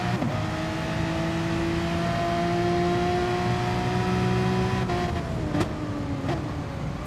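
Porsche race car engine in an online racing game at the Red Bull Ring, a sustained loud whine holding steady before dropping in pitch with quick downshifts and brief blips near the end, with no voices.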